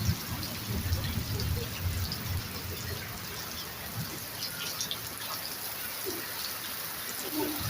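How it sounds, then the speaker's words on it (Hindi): Steady rain falls outdoors where people are bathing, a continuous broadband patter and trickle of water throughout, fairly close and even in level, with no clear talk. "बारिश में टिप टिप बरसे पानी, ऐसा लग रहा है"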